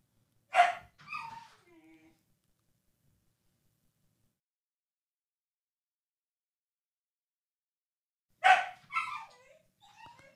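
A dog barks twice, two sharp separate barks about eight seconds apart, each trailing into a brief softer yelp, with silence in between.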